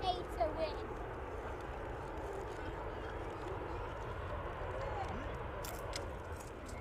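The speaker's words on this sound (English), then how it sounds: "So look in the distance then as that Ryanair lands in with us." A Ryanair airliner landing at East Midlands Airport in the evening, its distant engine roar a faint, steady wash under outdoor ambience, with a voice audible nearby.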